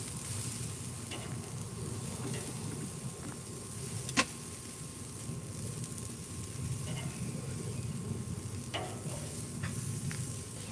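Mushrooms searing on a grill, a low steady sizzle with occasional sharp taps and clicks of a utensil as they are turned, quiet and even.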